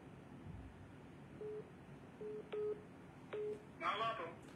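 Telephone line tones during a call to someone in Germany: a few short beeping tones spaced apart over quiet line hiss, ending in a brief burst of noise.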